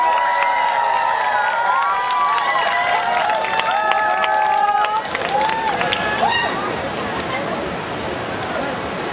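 An audience at a games-and-giveaways event cheers and applauds a contestant. Loud shouting and whooping voices come first, then they break into a busy, rough wash of clapping and crowd noise.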